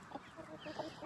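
Chickens cluck softly beside a farm path near crops, a few short, faint calls over quiet outdoor background.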